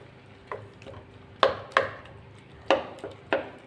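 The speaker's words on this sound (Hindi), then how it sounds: "इस तरह करके सब्ज़ी को दबा दबा के इस तरह पीस लेंगे" Cooked turnip pieces being mashed with a spoon in a pan, a series of sharp clacks and soft squishes at irregular intervals, close and clear without talk.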